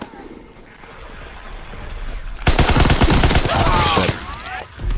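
Rapid bursts of Call of Duty: WWII gunfire crackle loudly, sparse at first then dense and continuous, with background game effects and faint voices underneath.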